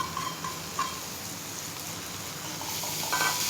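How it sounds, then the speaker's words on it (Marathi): Garlic sautés in a pan on low gas before chopped fenugreek leaves go in, a faint, even sizzle with a few small pops and light stirring. No voices. "आता हे थोडं परतलं की आपण जी मेथी चिरून ठेवली ती घालायची"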